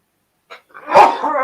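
A single sharp human sneeze, close and brief, preceded by a quick intake of breath during a live chat.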